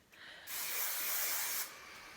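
One steady hiss of aerosol hairspray, about a second long, close by, with no one talking.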